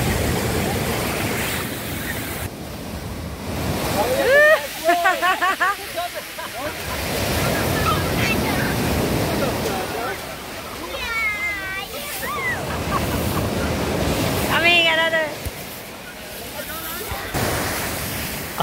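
Ocean waves break and wash onto a shallow Turkish beach in a steady, continuous surf roar. People shout and chatter excitedly over it.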